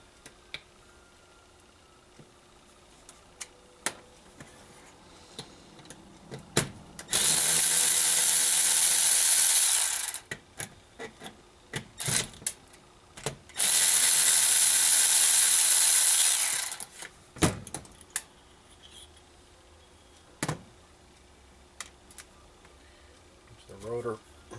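Eighth-inch Allen screws being worked out of the rotor of a Moroso 22640 vacuum pump, with scattered metallic clicks and taps and two long bursts of loud, hissing, whirring mechanical noise, as someone talks between them.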